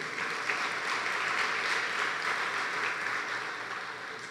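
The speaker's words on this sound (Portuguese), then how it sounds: "Dê uma salva de palmas para o nosso Deus." A congregation applauding during a church family service, with steady, even clapping from many hands that holds throughout and eases slightly at the close.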